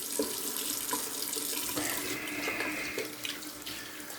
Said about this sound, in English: I'm going to rinse with cold water.